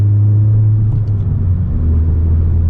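Inside a 2020 Honda Civic Si on its stock tune, the engine drones as a loud, steady low rumble while the car is driving, with no clear rise in revs and no talking.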